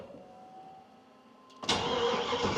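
An old car that has sat unused for a year cranks and fires into life, a sudden loud burst of engine roar and rough running after a quiet start with faint tones.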